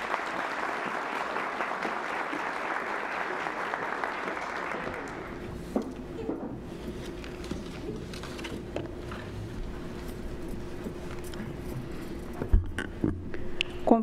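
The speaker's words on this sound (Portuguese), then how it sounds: "Tá, uma salva de palmas." Crowd applause at a PUC-Campinas university graduation ceremony, dense steady clapping for about five seconds that then drops away, leaving sparse scattered claps and low room hum with a sustained tone.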